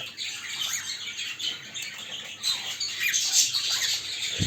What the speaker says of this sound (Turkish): Dişi yuvaya girince şimdi erkek dişiyi dışarı çağırıyor.